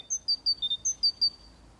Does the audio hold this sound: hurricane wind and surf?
no